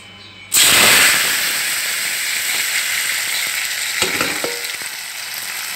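Tomato pieces drop into hot oil in a pot on the stove, setting off a sudden loud sizzle that holds steady, with a few stirring clatters near the end.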